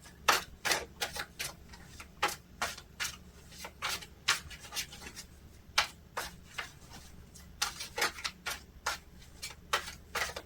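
Tarot cards are shuffled by hand in a quick run of crisp riffling clicks and slaps. The sharp bursts come in uneven clusters, close and alone.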